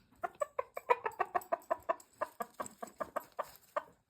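Brown Red hens cluck in a quick, steady series of short clucks, close by and fairly quiet, with no other sounds around them.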